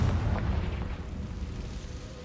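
The Confringo fire spell in Hogwarts Legacy goes off as a deep, rumbling explosion whose boom opens strongly and then rolls away into a fading low roar over about two seconds.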